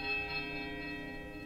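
Temple bells in Pillars of Eternity hum in a faint, sustained ring of layered tones that hold steady and slowly fade over a second and a half.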